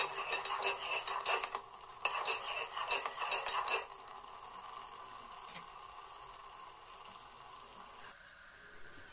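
Masala for spinach rice bubbles in a pan while a spoon scrapes and clinks against the metal in quick bursts, then the stirring stops and only a softer steady simmer remains.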